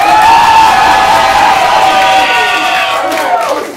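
A theater audience at a live improv comedy show cheers, whoops and applauds loudly, a dense, sustained roar of voices and clapping that holds steady throughout before easing slightly at the end.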